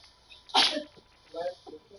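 One sharp, close sneeze bursts out near the start, followed by a faint trailing breath, and someone speaks briefly afterward.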